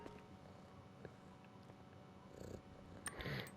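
A sleeping cat purring in GTA 5 Online, a faint, low, continuous purr in a quiet room, with a few soft clicks and a brief louder rustle near the end.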